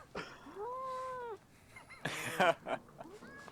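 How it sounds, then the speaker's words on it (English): Several cat meows, a few drawn-out and rising then falling, one burst louder and harsher, heard close and clear with short pauses between calls. "should we get some cat meows?"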